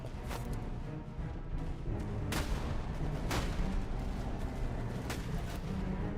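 Grapeshot artillery volleys in a Prussian battle strategy game boom repeatedly over a dense, continuous rumble of battlefield noise, with several sharp cannon blasts standing out at irregular intervals.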